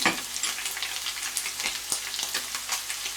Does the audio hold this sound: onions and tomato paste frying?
yes